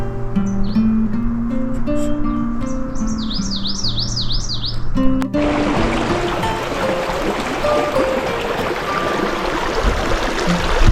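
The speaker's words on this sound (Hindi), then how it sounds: "रामा के जंगल में बेशुमार इकसाम के परिंदों की बहुत सी स्पीशीज भी पाई जाती हैं, जिनकी खुशकुन आवाज़ें सुनकर इंसान एक फितरी सुकून महसूस करता है।" Birds chirping and trilling in Rama forest in Astore, close and varied calls heard over a steady rushing stream, with a brief overlay of other birdsong before the water noise swells.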